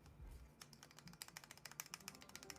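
Rapid mechanical keyboard typing with ticking stabilizers lubed with XHT, a steady patter of sharp, fairly quiet keystroke clicks close by, following a brief low thump at the start.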